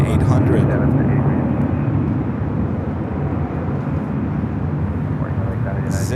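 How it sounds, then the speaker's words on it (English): A Southwest Airlines Boeing 737-800 arriving at Los Angeles International Airport, its loud, steady jet roar filling the scene and easing very slightly after the first couple of seconds. "Our next arrival here on the north side is Southwest Airlines Flight 2496, coming in from Denver, 737-800"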